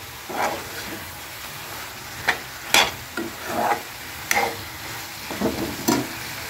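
Chicken being stir-fried in a pan with a little sugar: quiet scraping strokes come in irregular bursts over a faint sizzle close by.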